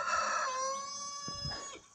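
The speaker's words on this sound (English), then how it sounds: "Rooster." A rooster crows once in a long, drawn-out tonal call, fairly close and clear over faint outdoor background near a garden trellis.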